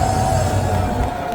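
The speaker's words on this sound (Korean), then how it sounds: "목숨 걸고 고생하시는 소방관들에게 박수 한번 주세요." A large outdoor rally crowd at Gwanghwamun applauding firefighters, a loud, steady roar of clapping and cheering with no distinct individual claps, sustained throughout.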